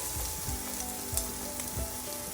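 Shrimp sausage fried rice sizzling in a hot pan, a steady close frying hiss with faint scraping stirs and a few light pops, no voices.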